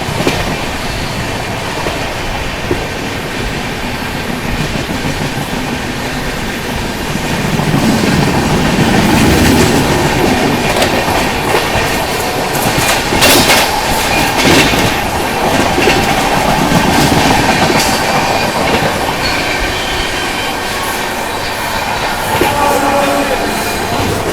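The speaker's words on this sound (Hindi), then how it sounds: "मालगाड़ी का इंजन था इसलिए 130 पे नहीं जा पाया" An Indian long-distance Humsafar Express passenger train runs at about 130 km/h parallel to a freight train locomotive, giving a steady loud rumble with rail clatter that swells midway, with no voices.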